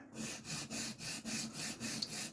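A Puma Inox knife bevel is sharpened on a modest 1000-grit diamond plate, giving steady rhythmic scraping strokes, about eight back-and-forth rubs at an even pace, close and fairly loud with no talking.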